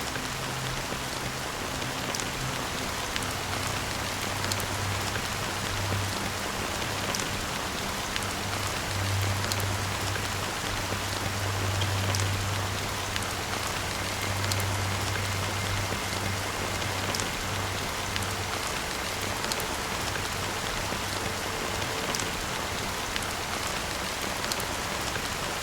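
Steady rain falling in the video game Honkai Star Rail, a dense even patter on surfaces that continues alone for the whole stretch, with a low hum underneath.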